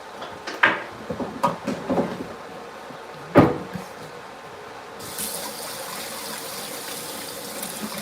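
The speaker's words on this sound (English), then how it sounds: "I'm still here, I'm just washing my hands." Kitchen clatter and a few sharp knocks come first, then a tap is turned on and water runs steadily for hand washing, a continuous gush that carries on to the end.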